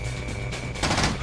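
Turrets open fire in Command & Conquer: Tiberian Sun: a brief volley of gunshots with a steady whine beneath, swelling into a louder burst near the end, with no voices.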